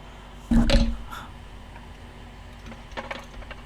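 Torque wrench clicking once as a car part is tightened in a repair shop: a single sharp mechanical click up close, followed by faint small taps and rustling in a quiet room.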